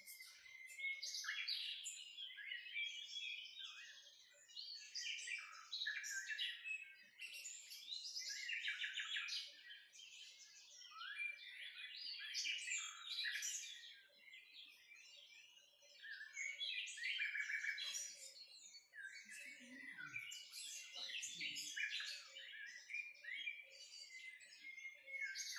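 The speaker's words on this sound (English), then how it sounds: "So hear the beautiful sounds of birds singing," Many birds chirp and sing together in a dense, continuous chorus of bright tweets, with no talking.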